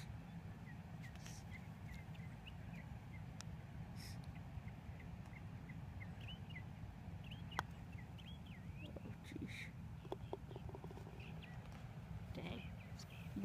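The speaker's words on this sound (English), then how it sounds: "William, you may hear birds. That's because birds are birds." On a golf course, small birds chirp and warble faintly in scattered short phrases over a low, steady background rumble, distant and quiet.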